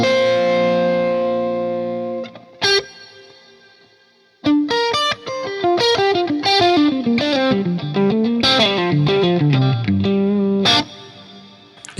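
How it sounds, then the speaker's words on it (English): Distorted electric guitar notes through a Fender Tone Master Pro cloud reverb wash into a long, shimmering reverb tail, with a run of descending notes blurring together and sustaining. "The cloud reverb."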